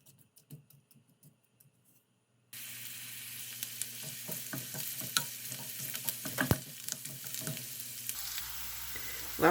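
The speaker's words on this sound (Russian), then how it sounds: "Сначала поджарим лук на подсолнечном масле." Onion frying in sunflower oil, with a steady bright sizzle that begins abruptly after a short quiet stretch and continues alongside scattered stirring clicks and scrapes.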